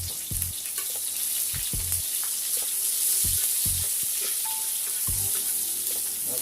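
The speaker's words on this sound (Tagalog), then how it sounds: "So, golden brown na ang bawang, kaya ilalagay natin ang sibuyas." Sliced onions added to golden-brown garlic crackle and sizzle steadily in a hot pan for pansit with squid, with several louder bursts of frying and low clunks of utensils, close and without talk.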